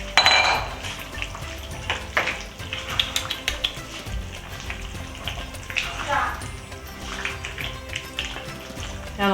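Potatoes being stirred into a pot of Trinidadian curry with channa and aloo, a spoon scraping and clinking against the pot among soft sizzling.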